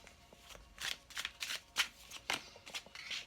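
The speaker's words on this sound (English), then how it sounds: "I gotta shuffle again." Quick, soft riffling bursts of tarot cards being shuffled by hand, repeated in an irregular rhythm, close and quiet with no talking.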